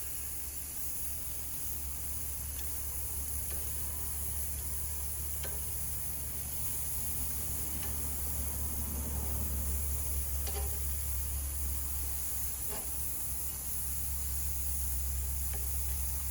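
Venison chops sizzle on a Primo grill, a steady faint hiss with occasional small pops and crackles, with no talking.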